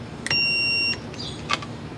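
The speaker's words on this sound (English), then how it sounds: "proceed to tighten it, wait to hear the beep" A Nike SQ Dymo STR8-FIT golf driver head being tightened onto the shaft gives a single loud, sustained electronic beep lasting over half a second, then a few brief faint chirps, with no talking.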